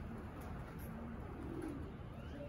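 Racing pigeons coo softly at a Texas loft, low murmuring calls heard faintly under steady background noise, with no talking.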